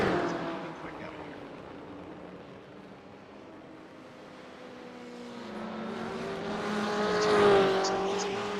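A GTE-class endurance race car driving at the Nürburgring, a steady distant engine drone with tonal harmonics that swells louder and climbs in pitch toward the end as the car approaches.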